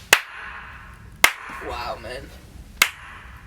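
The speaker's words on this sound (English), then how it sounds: "Clap now." Single hand claps with simulated hall reverb, three sharp separate claps each followed by a lingering echo tail, with a voice speaking briefly between them.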